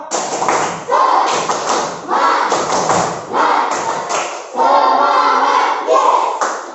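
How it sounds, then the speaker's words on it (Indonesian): A classroom of students performs the tepuk semangat clapping chant, rhythmic bursts of group claps and thumps mixed with shouted chanting voices, loud and close, repeating in several waves. "Caranya tepuk semangat. Semangat, yes."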